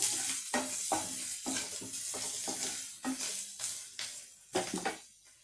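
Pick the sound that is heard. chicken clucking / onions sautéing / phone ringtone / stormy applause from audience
onions sautéing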